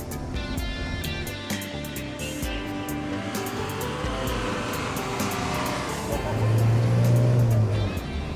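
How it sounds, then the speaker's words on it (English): A bus engine drones and rumbles continuously on a bumpy road across Sumbawa island, with rattles and knocks over the steady motor noise and a louder low surge near the end. "I have to take a bumpy bus ride across the beautiful island of Sumbawa"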